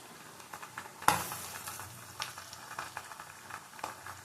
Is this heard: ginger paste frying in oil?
yes